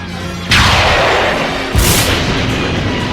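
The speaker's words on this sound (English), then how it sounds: "Fire cannons!" Two loud cannon blasts boom in close succession in an animated cartoon battle, each a heavy thud with a long rumbling decay.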